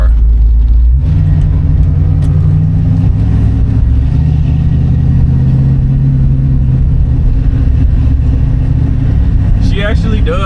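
A 1967 Ford Mustang with a 289 V8 runs with a loud, deep, steady engine rumble that holds throughout, and a voice talks over it.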